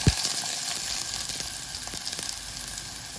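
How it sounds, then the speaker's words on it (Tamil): Onions dropped into hot oil for an aubergine curry hiss and sizzle loudly and steadily up close, with a brief thump as they land and faint stirring clicks. "நாங்கள் இப்போ வெங்காயம் போடுவோம்."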